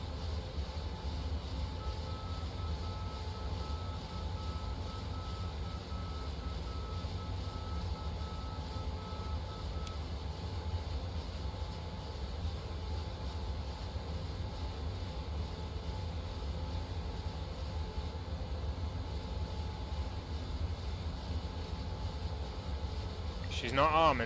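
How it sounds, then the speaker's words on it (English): The jet engines of a PMDG 737-800 climbing out of Exeter in Microsoft Flight Simulator 2020 give a steady, loud, unbroken low roar and hum throughout, with people talking over it. "Out of Exeter, listen to those engines go."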